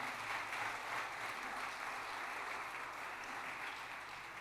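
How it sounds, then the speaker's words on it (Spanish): Congregation at a church sermon applauding steadily, a dense continuous wash of clapping throughout with no voices over it. "Dele fuerte palmas al Señor, mi querido hermano"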